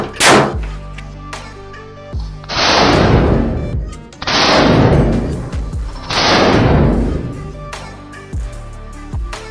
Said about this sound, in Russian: Звук выстрела оглушающий